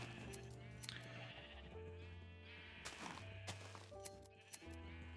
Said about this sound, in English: There are a lot of sheep in here.